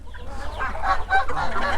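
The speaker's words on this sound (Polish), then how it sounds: "Zobacz, jak bebla ta kaczka." A duck quacks among farm fowl such as chickens and geese in a small farmyard mini zoo, giving a few close, loud, throaty calls in quick succession.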